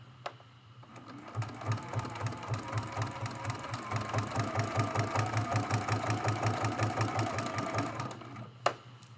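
A quilting sewing machine runs a rapid, even stitch pattern for several seconds to knot a thread in a quilt, starting and stopping cleanly, moderately close and alone, with a faint click at the end.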